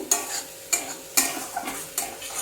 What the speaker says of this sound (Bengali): একটু একটু জল দিয়ে দিয়ে মশলা জল দিয়ে দিয়ে পুরো মশলাটাকে কষিয়ে নিচ্ছি